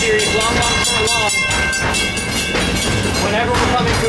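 A Disneyland Railroad train approaches with a loud, close, continuous rumble, and whistle tones ring over the running noise.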